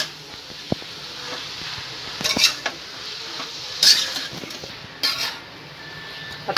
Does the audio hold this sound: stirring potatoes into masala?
yes